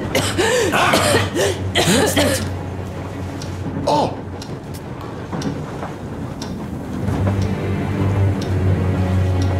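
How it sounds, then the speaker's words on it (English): A character coughs in the video game Metro Exodus, a few harsh coughs and throat sounds up front over a steady low game hum, followed by quieter ambience. "What's that cough?"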